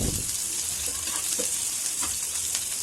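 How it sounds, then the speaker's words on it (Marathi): Chopped onion sizzles steadily in a spoonful of hot oil in a home kitchen pan, a dense continuous crackle with a few soft stirring scrapes, close and without talk. "कांदा मस्त फ्राय करून घेऊया"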